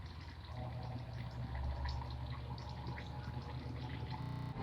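Old, blackened coolant drains from the radiator of a Hyundai Eon, a continuous trickling, gurgling pour of liquid close by, steady throughout with a brief change near the end.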